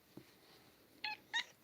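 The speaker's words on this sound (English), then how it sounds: "this is my cat, Nadyusia" A pet cat gives two short, distinct meows in a quiet indoor room, the second slightly louder, with a faint thump just before.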